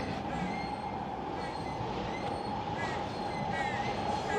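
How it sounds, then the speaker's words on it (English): SkyTrain passing near a bridge in East Vancouver, a steady close rumble of rail cars with faint wheel squeals, and a voice talking under it. "all the background noise and stuff like that from the Skytrains"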